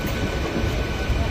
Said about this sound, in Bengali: তো আমাদের ট্রেন এখন ঢুকে পড়েছে রানাঘাট জংশনে